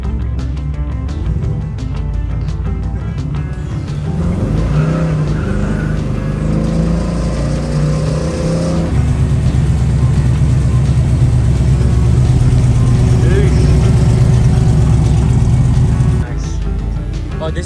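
A 1979 Pontiac Firebird Trans Am's engine revs hard and holds high RPM, a loud continuous roar that steps up midway, heard from inside the car with people talking over it.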